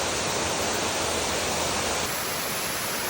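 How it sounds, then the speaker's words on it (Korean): Steady, heavy roar of Yongchu Falls at Uirimji reservoir in Chungbuk, South Korea, filling the whole clip, a dense continuous wash with no pauses and no voices. "세찬 물줄기가 낙하하는 용추폭포를 구경하고 있다 보면"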